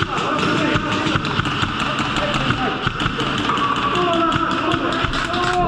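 Airsoft guns fire rounds in rapid, regular bursts of sharp taps inside an abandoned mall during a large game, close and loud, with people talking and shouting over the shots.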